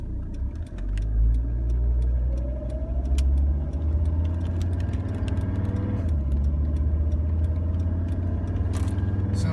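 A Mercedes-Benz diesel engine running on vegetable oil chugs steadily at idle nearby, a low rumbling drone with a faint ticking clatter layered over it and a brief rev partway through.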